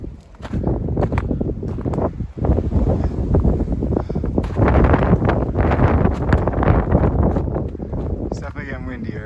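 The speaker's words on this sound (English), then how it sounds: "It's definitely getting windier." Strong wind buffets the microphone on the summit trail of Mount Frissell, Connecticut, roaring continuously and loudly while a person talks over it.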